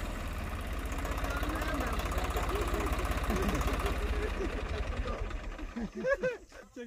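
A Swaraj 855 4x4 tractor's engine idles with a steady, rapid knocking throb, then sputters and dies away near the end.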